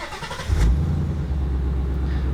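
A Ford Mustang V8 engine rumbles with a low, steady idle and a short rev swell near the start, heard from close range inside the car, with no talk over it.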